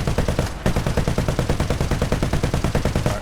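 An M16 halftrack's quad machine guns fire in War Thunder, a fast, sustained rattling burst of loud, evenly spaced shots after a brief pause.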